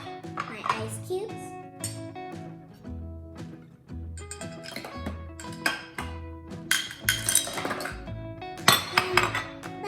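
Ice cubes drop into a blender jug with fruit for a smoothie, giving a run of bright, hard clinks and clatters, loud and close, coming in irregular bursts.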